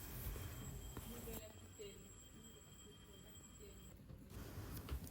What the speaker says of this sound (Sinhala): මේක තමයි අපි යන්න ඕනේ ට්‍රේන් එක. ඒක දැනටමත් ඇවිල්ලා තියෙන්නේ.